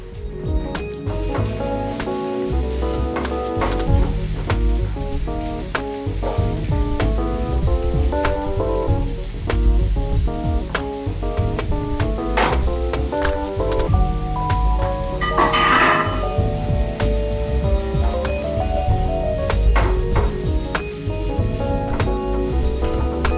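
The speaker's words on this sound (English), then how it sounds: "then add my peppers and garlic and saute them for a couple of minutes" Onions, peppers and garlic sauté in a pan with a steady, bright, close sizzle that continues throughout, under a tonal musical backing.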